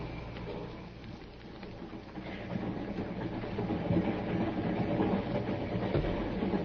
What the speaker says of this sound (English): The train was a few minutes out of Glendale.